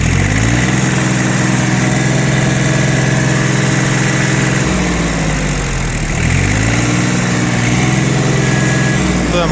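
A small Yanmar FX20D compact tractor engine runs steadily and loudly nearby, rising in revs, dipping briefly midway, then climbing again.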